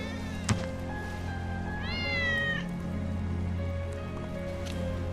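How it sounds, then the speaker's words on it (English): Cat meowing in the Final Fantasy VII Remake game, a single drawn-out rising meow heard over steady low background hum and faint ambience, fairly clear but not loud. "That's Wedge's cat."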